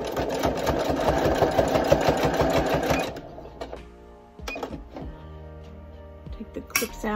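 Sewing machine stitching a Dollar Tree potholder hand towel, a fast rattling needle run for a few seconds that stops, followed by quieter clicks and handling noises as fabric is adjusted.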